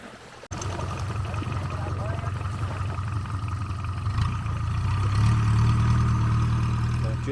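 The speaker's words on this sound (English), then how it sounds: "this is a motorbike that I'm renting for the day. It's a little Honda Scoopy thing" A small rented Honda Scoopy motorbike engine idles steadily up close, with a low hum that thickens and rises in pitch around the last two seconds, as if revved slightly.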